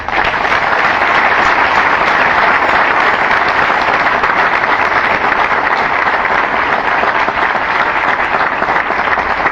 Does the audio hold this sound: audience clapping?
yes